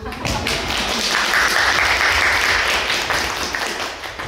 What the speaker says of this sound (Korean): 네, 다들 박수.